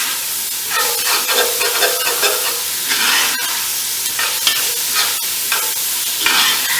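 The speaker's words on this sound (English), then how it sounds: "We'll take these onions and deglaze that skillet." Onions fry and sizzle in a skillet for a venison steak gravy, a steady loud hiss with stirring scrapes and a couple of sharp clacks as the pan is deglazed, no voices.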